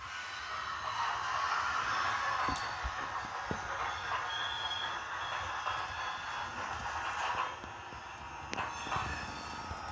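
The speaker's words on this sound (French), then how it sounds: "on va avoir quelques sons aussi au niveau des bruits de courbure et au niveau des rails" Sound of an ESU v5 decoder in an HO scale Lematec 6540 model locomotive: a steady, moderate hiss of high-pitched curve squeal and rail noise, with occasional faint clicks and knocks.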